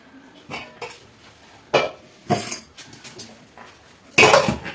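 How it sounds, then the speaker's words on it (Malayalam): Cooked rice is drained from a pot, heard as a few separate bursts of pouring, splashing water and clanks of metal pot and lid, spaced apart with quiet gaps between them and a louder final gush. "നമ്മളിതാ ഈ മൂലയിലോട്ട് നമ്മൾ ചോറ് വാർത്തെടുക്കും"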